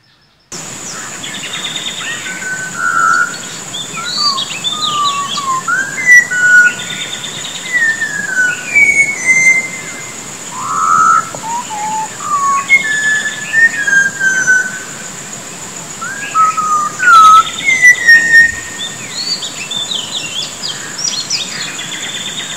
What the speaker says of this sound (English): listening this great whistler, Malabar whistling thrush, which is also known as whistling schoolboy